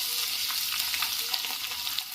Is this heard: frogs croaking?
no